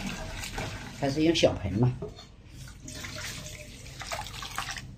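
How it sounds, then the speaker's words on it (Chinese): Water splashes and pours into a small basin to soak pickled vegetables indoors, with a brief voice speaking at the start. "搞一点水，我们把它泡一下啊。"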